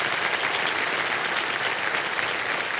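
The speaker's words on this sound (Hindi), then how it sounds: "तालियां बज जाए हमारे कंपेनियन के लिए।" Studio audience on the KBC quiz show applauding for a contestant's companion, a steady, even wash of many hands clapping, moderately loud and continuous throughout.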